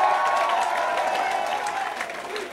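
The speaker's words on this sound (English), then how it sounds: "give yourselves all a fucking huge round of applause for me" A concert crowd in a small club gives sustained applause and cheering after a live rock set, a dense steady wash of clapping with scattered shouts, moderately loud and fading slightly toward the end.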